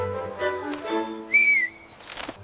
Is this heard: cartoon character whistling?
yes